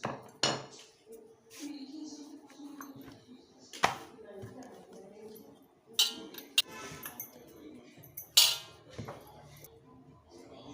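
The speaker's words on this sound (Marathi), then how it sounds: "लाटून झाले आता हे आपण कापून घेऊया" Rolled dal-methi chakolya dough being cut into pieces in a home kitchen: sparse, sharp knife taps and clinks against a board or plate arrive irregularly, with soft handling noises in between and occasional background voice.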